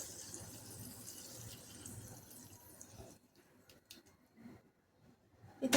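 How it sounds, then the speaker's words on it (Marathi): Hot tempering pours and splashes steadily over dhokla for a few seconds, then stops, leaving faint sizzling and quiet clatter. "आता हे आपण ह्याच्यावरती तडका देऊन घेऊयात"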